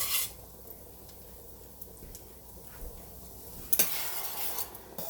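Scrambled eggs are stirred in a hot skillet with a faint, soft sizzle and light scraping of a utensil, ending with a brief louder clatter.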